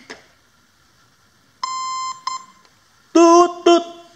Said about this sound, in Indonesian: Lalu kita colok lagi si baterainya. Bip bip